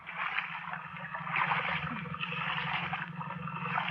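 Paddles dip and swish through water in a steady rhythm in a 1950 radio drama, with soft splashing and trickling close by and a low hum underneath.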